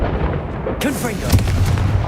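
A Confringo blasting curse from a Hogwarts spell effect bursts into a loud, booming explosion that rumbles on, with a voice heard briefly as it goes off.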